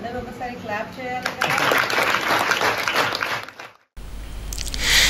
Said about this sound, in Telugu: అందరూ ఒకసారి క్లాప్ చేయాలి.